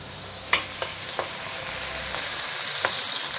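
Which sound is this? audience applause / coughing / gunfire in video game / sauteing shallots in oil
sauteing shallots in oil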